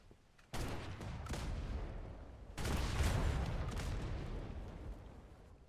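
Front guns firing: loud, sustained barrages of booming blasts start abruptly, ease slightly, then a second heavier volley erupts and rumbles on, with no talking.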